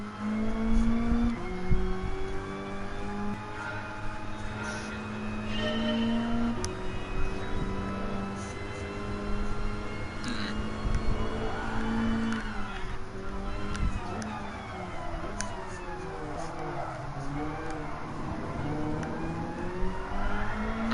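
A supercharged race car in Gran Turismo Sport holds a steady engine drone with a rising and falling whine that shifts pitch as it accelerates and changes gear. Another car is heard in the background, and a player talks over it.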